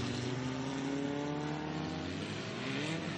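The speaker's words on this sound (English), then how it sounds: "Eric Inkrot heads towards the checkered flag here on the final lap at Mid-Ohio for our Group 2 race" Formula Ford race cars roar through the final lap at Mid-Ohio, with sustained loud engine revving and rising, shifting harmonic whine as cars pass, continuous throughout with no talk.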